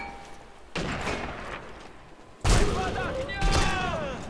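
Gunfire in the shooter video game Sniper Elite V2, with sharp broadband blasts at the start and again around the middle, then loud reverberant booms. The shots ring out beneath excited voices talking over the game.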